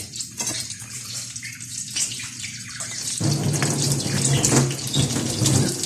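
Water gushes from a kitchen tap while washing up during carbonara cooking, a steady splashing stream that grows fuller partway through, with no talk.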